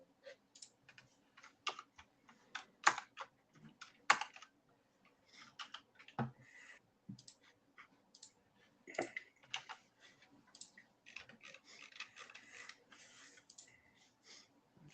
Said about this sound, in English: I'm going to mute your loud keyboard for a moment, Clemens.